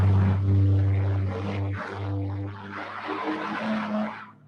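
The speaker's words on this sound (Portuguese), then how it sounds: "Desculpa que passou um caminhão aqui, eu não consegui mais falar." A truck passes close by with a loud, low engine drone and tire roar that swells, wavers and gradually fades away, with no voices.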